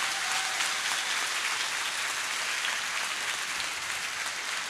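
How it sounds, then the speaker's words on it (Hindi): A large audience claps steadily and evenly for several seconds, a dense wash of applause with no pause, heard without speech. "एक बार माँ बाप के लिए फिर से जोरदार तालियां बजा दीजिए।"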